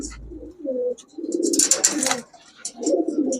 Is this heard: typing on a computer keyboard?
no